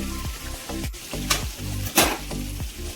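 Prawns frying in a pan until golden for homemade chilli prawns, giving a steady, close sizzle with a few metallic clinks and stirring scrapes throughout.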